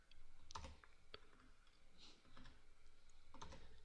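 Typing on a computer keyboard: bursts of quiet, close key clicks in an irregular rhythm, with short pauses between runs of keystrokes.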